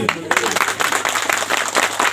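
Audience clapping at an outdoor Sarna community gathering, a dense burst of applause that starts after a brief pause and carries on steadily, with voices mixed in.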